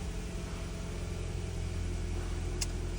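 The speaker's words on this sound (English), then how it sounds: "Let's start the vehicle. See what this command evap purge does." A 2014 Ford Fusion that runs poorly sits at a low, steady idle with a continuous close rumble and one short click near the end, and no speech over it.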